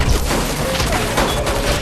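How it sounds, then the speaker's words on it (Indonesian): Gunfire in a Chinese crime film scene: loud, dense bursts of rapid shots blending into one continuous crackling volley over a short stretch. "Mendengar ada suara tembakan"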